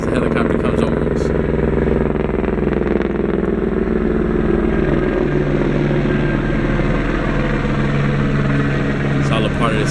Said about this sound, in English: As the helicopter comes over us.